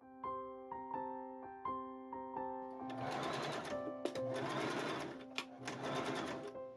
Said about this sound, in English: I start by pinning the thumb again, and I sew along the side of the thumb.